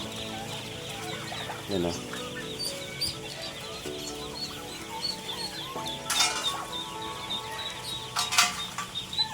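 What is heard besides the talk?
turkeys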